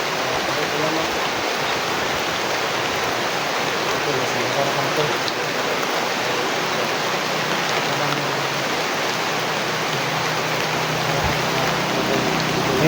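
Water flowing near a cemented well, a constant dense rushing wash like a stream or heavy rain, steady and close for the whole stretch without clear talking.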